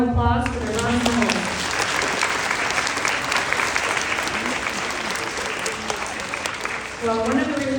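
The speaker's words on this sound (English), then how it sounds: "Let's give them one final round of applause for their bronze medals." Audience applause rings out steadily for fifth-grade orchestra students receiving bronze medals at a school presentation, a dense sustained clapping with a voice heard at the start and end.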